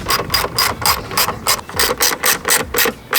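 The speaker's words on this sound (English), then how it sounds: "grab your 10mm bolts and screw these right back on" A ratchet drives 10mm bolts into a BMW F30 tail light, giving about a dozen crisp, evenly spaced bursts of clicking, close and loud with no talk.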